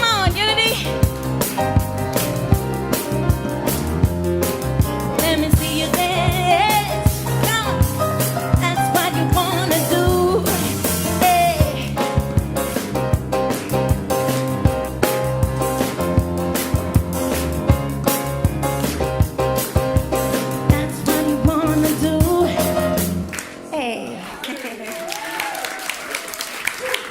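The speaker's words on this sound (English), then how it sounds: "Clap along if you feel like that's what you wanna do." A church congregation claps steadily along to an upbeat song at a Sunday service, the dense rhythmic clapping running loud over the music for most of the stretch before dropping away near the end.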